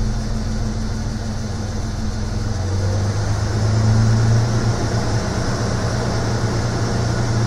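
A Nissan GQ Patrol engine running on petrol and slightly lean settles into a fast idle, a steady, close, low droning hum with a faint rise in pitch partway through.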